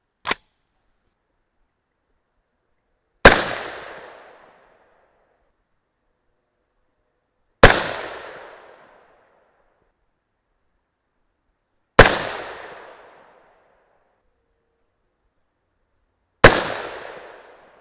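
A 6.5 Grendel rifle firing 120gr Speer Gold Dot rounds for a 4-shot group: four loud, sharp shots spaced about four seconds apart, each with a short decaying echo, after a faint click at the start.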